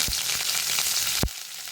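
Urad dal and curry leaves dropped into hot oil, with mustard seeds already in the pan, crackling in a close, bright sizzle punctuated by a few sharp pops, the loudest near the end.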